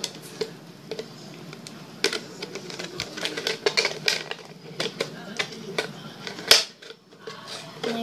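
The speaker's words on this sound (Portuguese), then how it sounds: "Quando chega nessa linhazinha da garrafa PET, vocês vão cortar tudo em volta" Scissors cut all the way around a PET plastic bottle, giving a close, steady run of crisp irregular clicks and crunchy snips with a few sharper snaps, alone.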